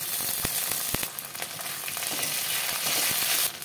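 Bay leaves, chopped onion, chili and ginger-garlic paste sizzle in hot oil in a pan while cooking banana flower curry, a continuous loud frying hiss with a few sharp crackles and stirring scrapes.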